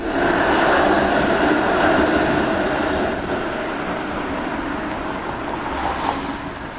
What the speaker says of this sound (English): And this is a 5-1 streetcar.